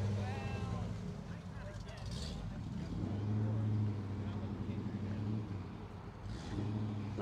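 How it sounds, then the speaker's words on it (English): A 1966 Chevrolet El Camino with a 327 engine rolls in at a cars and coffee meet. Its low, rumbling exhaust burbles steadily at moderate distance while people talk over it throughout. "Got a little Elky coming here, 66."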